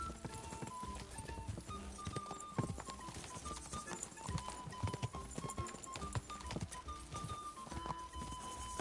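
A horse gallops in Kingdom Come: Deliverance II, its hooves thudding in a fast, steady rhythm for the whole stretch. Game sounds mix in, and there is little or no talk.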